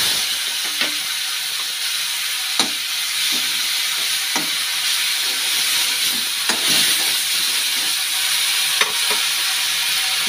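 Tomato and ginger hit a pan of fried eggs, giving a steady close sizzle with scattered sharp clicks and scrapes of stirring throughout, no voices.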